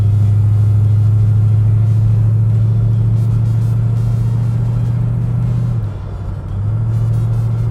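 Steady droning cabin rumble from a Ford car with an automatic transmission while driving, the engine tone dipping briefly near the end as the gearbox shifts, then settling back.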